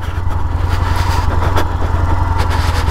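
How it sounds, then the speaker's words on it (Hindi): A motorcycle engine braking during off-road riding near Pangong Tso, a loud, steady low rumble with a throbbing, pulsing beat close to the microphone, with no voices heard. "Engine braking is the only option."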